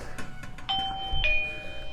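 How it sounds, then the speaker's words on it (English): A smart home doorbell chimes at a front door with two clear electronic tones, a higher ding then a lower dong, ringing out and fading over a faint background hum. "but then also another doorbell here and here"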